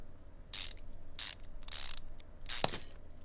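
Car Mechanic Simulator 2015 game sounds of a ratchet unbolting car parts: four short, crisp mechanical clicking bursts in quick succession, close and clear against near silence.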